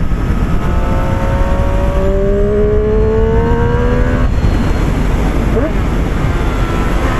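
A Triumph Street Triple 765 RS roadster revs hard while riding. The engine note rises steadily, drops at a gear change and climbs again, loud and close over constant wind rush.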